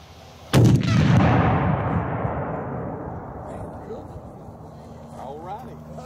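A firework shell with its lift charge removed explodes inside a freestanding tube, one sudden loud boom with a long rumbling decay that fades over several seconds into quiet outdoor background.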